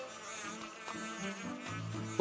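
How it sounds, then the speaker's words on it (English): Bees buzz with a steady, faint drone in the Zelda Skyward Sword video game, continuous throughout, with no voices. "there's some bees, and you can't get across"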